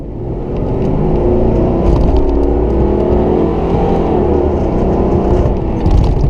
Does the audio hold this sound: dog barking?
no